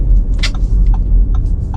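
Throaty turbocharged engine of a 2021 Audi SQ5 pulling hard under acceleration, a loud, close low rumble that holds steady through the whole moment.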